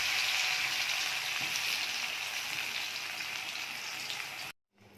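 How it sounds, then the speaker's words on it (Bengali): Potatoes coated in salt and turmeric fry in hot white oil, giving a steady, close sizzling hiss that continues unbroken and then cuts off abruptly near the end. "আলুটা ভেজে নিই।"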